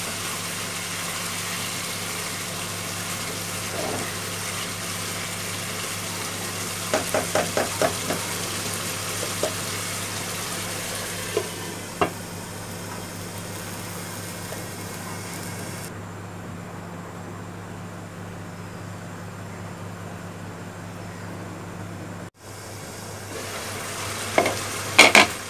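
Chicken liver sizzles and fries in a pan while a utensil scrapes and stirs it in sporadic bursts, over a steady background hum, with no talking.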